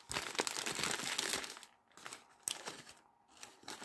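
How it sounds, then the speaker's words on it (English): A paper wrapper around a large KFC Cheetos double chicken sandwich with bacon is crinkled and peeled away, with dense close crackling and rustling in uneven bursts and brief pauses, fairly quiet overall. "I'll take the paper away completely so you can get a good look at it there now"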